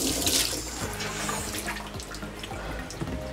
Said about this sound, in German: Abspülen mit frischem Wasser.